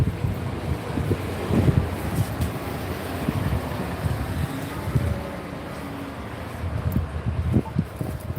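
Gusting wind buffets the microphone outdoors with continuous low rumbling and irregular louder thumps throughout.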